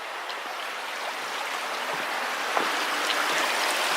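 Clear stream water beside a hiking trail on the Foothills Trail flows in a steady, soft hiss and burble, continuous and fairly close with no voices.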